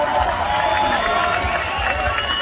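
A crowd at a greasy pole contest at a palio in Abbiate breaks into applause and cheering, a dense, lively roar of many people in an open setting.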